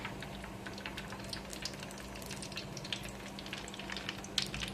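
Hot oil in a kadai sizzles and crackles while halwa is fried, a faint, steady frying hiss dotted with small popping bursts, with no talking.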